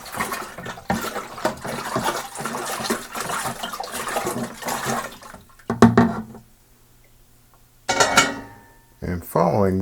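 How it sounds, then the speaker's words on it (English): Almond wine must in a one-gallon batch is stirred vigorously after adding homemade yeast nutrient, giving repeated sloshing, clinking strokes through the first half before quieter scraping and brief splashes. "Now is the time I want to go ahead and add in our homemade yeast nutrient. I want to give that a good vigorous stir."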